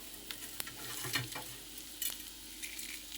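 Mustard seeds and cumin fry in hot oil with a steady, soft sizzle, broken by scattered sharp pops and light stirring scrapes.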